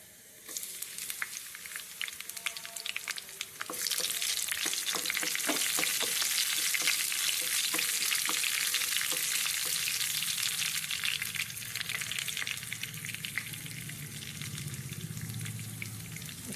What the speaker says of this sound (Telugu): ఆవాలు వేసుకుందాం ఫస్ట్ తర్వాత జీలకర్ర వేద్దాం తర్వాత ఏం వేయాలంటే అండి వెల్లుల్లి వేయాలి